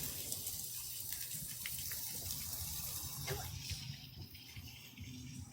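Steady hiss of water pouring from a household faucet into a sink, loud and continuous with some splashing texture, slightly easing near the end.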